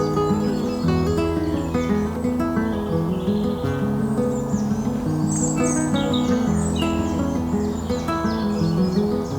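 Birds chirp and sing in woodland at Brockholes Nature Reserve, with several overlapping calls at moderate distance over a steady insect hum and low background rumble, no voices.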